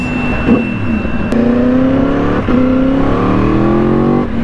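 A Yamaha R1 sport motorcycle engine revs and climbs steadily in pitch through several rising pulls, loud and close, with brief dips between bursts.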